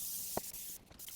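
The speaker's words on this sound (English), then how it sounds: "Just spraying a little bit more because I wanna make a corner there and a little bit on the floor." Short hissing bursts of aerosol spray adhesive being applied while carpet goes into a 1967 Triumph Spitfire MK3, close and steady with a brief break and some faint handling noises.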